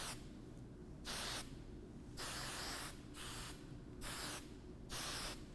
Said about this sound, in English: We're gonna spray it in place so that it doesn't move while I'm trying to clip it.